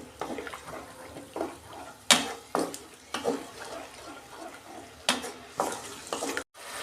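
Katla fish kalia masala with sour curd being sautéed in a pan, a steady sizzle broken by several loud scraping stirs with a brief dropout near the end, no voices.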